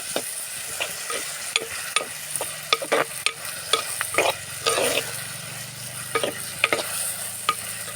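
Tomatoes cooking with ginger and turmeric for an egg masala curry, a soft continuous sizzle broken by sharp, irregular scrapes and knocks of a spoon against the pan, close by, without speech.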